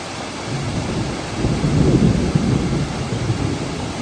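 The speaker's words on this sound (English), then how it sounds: "Yeah, that was thunder in the background." Thunder from a distant summer storm rolls along the Appalachian Trail, a low, muffled rumble that swells midway and then fades under steady outdoor noise and light rain.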